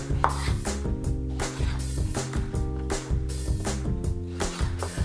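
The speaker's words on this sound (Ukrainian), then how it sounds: "картоплю можна порізати ось такими е, дольками" Steady rhythmic knife chops on a cutting board as potatoes are cut lengthwise into wedges, brisk and close, with faint background tones underneath.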